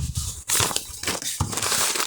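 Paper surprise packets are unwrapped by hand, giving close, busy crinkling and crumpling of paper in uneven bursts with short pauses, loud and with no talk.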